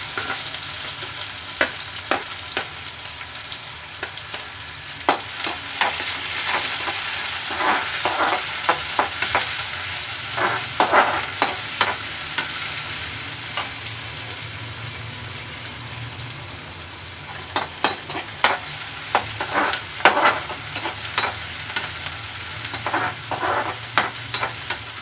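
Chopped onion and ginger fry in hot oil in a pan, a steady close sizzle broken by repeated scraping stirs and spatula clacks, with a quieter stretch midway and no talking.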